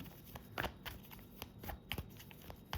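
Tarot cards handled for a reading, with quiet, close crisp flicks and soft shuffling rustles in an irregular run, alone with no talking.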